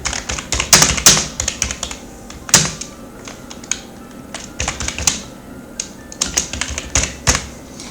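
Fingers type on a computer keyboard in irregular bursts of sharp, close clicks and clacks, with short pauses between runs of keystrokes and no voices.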